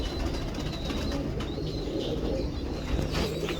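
Several pigeons coo softly and steadily close by, gentle throaty rolls repeating over a constant dense background murmur of the flock.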